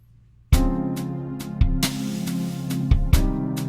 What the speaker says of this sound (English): What you're hearing right now is the intro to my song